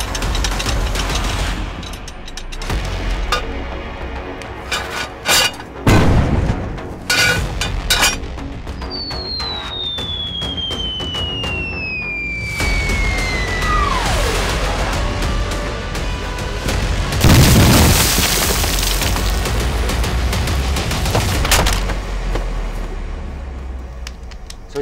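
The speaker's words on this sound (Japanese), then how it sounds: "おい、砲台は敵の観察点に攻撃しろ。" In a wartime battle scene, artillery cannon booms ring out in heavy, irregular blasts amid scattered gunfire. A whistling shell descends in pitch midway through, and a big loud explosion follows later.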